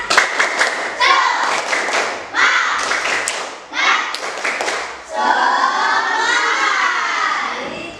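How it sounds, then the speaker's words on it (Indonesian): A classroom of students performs a rhythmic spirit clap, sharp patterned bursts of hand claps separated by brief pauses, mixed with voices and a louder sustained group sound near the end. "Sekarang kita lihat biar tidak ngantuk ya. Tepuk semangat."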